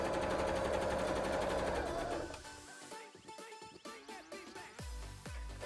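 Sewing machine stitching while making shorts for a Pumpkaboo cosplay, a quiet steady whir giving way to a run of rapid light mechanical clicks and thumps near the end, with no talk over it.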